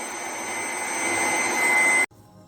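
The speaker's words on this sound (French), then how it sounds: "fixation ici des ventilateurs, d'un sèche-cheveux avec de la colle" Computer fans and a glued-on hair dryer blow air to keep balloons floating in a homemade balloon shooting stand, a loud steady whoosh with a faint whine that cuts off sharply near the end.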